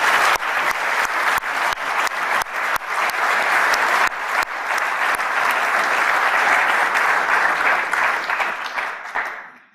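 Audience clapping at a conference on training young footballers, a full sustained round of applause with sharp individual claps standing out, tapering off near the end.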